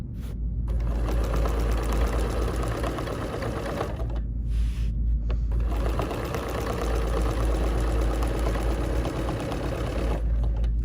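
A sewing machine stitching an embroidery sampler runs with a loud, steady, fast mechanical chatter that stops briefly twice before resuming, close and alone without voices.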